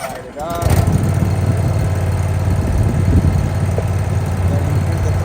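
A lawn mower engine fires up after a brief starting pull and settles into a steady, loud low-pitched running drone that continues to the end.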